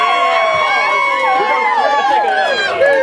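Crowd cheering and shouting at a Cinco de Mayo burrito eating contest, a continuous loud roar of voices with an announcer talking over it.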